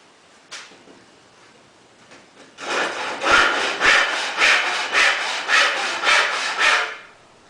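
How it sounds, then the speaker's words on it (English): A single scrape, then a handsaw cutting wood in about a dozen steady back-and-forth strokes, rasping and close, alone without talk. "you don't need a power tool to saw wood if you have something called a handsaw"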